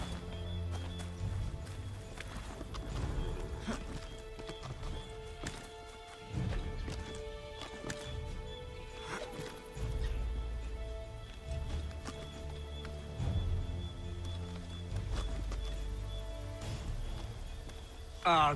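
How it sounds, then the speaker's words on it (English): Horse hooves clip-clop and gallop in the game Assassin's Creed 3 during the Midnight Ride, rhythmic thuds beneath game music and character dialogue. "Get back on the horse, Connor!"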